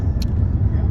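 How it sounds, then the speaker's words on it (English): Steady low rumble of a rented car driving on an Alaska road, heard from inside the cabin, with a brief higher click near the start. "And that's the car we are in."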